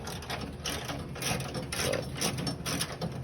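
A ratchet wrench turns out crusty radiator bolts on a 1968 Plymouth Roadrunner barn find, giving quick close clicking bursts of the pawl over a soft mechanical rattle, with no talking.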